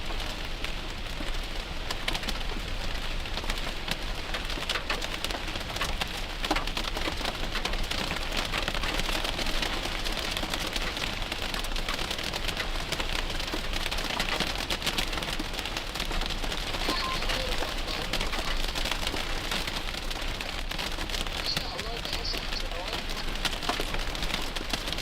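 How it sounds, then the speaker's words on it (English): Rain and some hail pelt a car during a storm with a steady dense patter, close and even throughout, with a voice faintly underneath. "Sounds like some hail's in his car right now."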